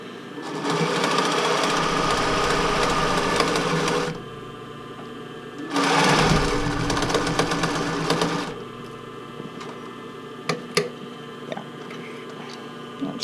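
A sewing machine with a broken leg lift stitches tankini fabric in two close, loud runs of several seconds each, separated by a pause, followed by quieter handling clicks and taps.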